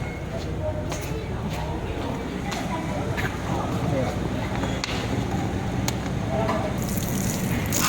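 Tap water runs steadily into a sink, rinsing hands or a container after handling egg shells at a Taiwanese egg crepe stall. The wash of water is a continuous, fairly loud hiss, with a few faint clinks on top.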